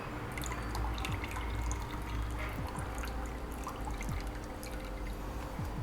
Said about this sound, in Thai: ใช้นี่เลยครับ น้ำต้มสายชูนะครับ แบบนี้นะครับ ก็เทใส่ลงไปนะครับ